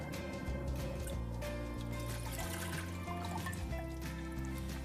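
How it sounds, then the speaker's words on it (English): Water is poured into a medium saucepan to boil pasta, making a faint trickling, splashing fill sound under a steady background of tonal hum and music. "Into a medium saucepan, I'm going to add in the water."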